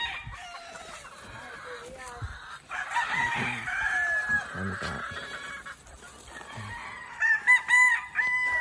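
Chickens cluck and a rooster crows in a busy outdoor setting with many chickens and vegetables, with people talking nearby and occasional thumps and footsteps.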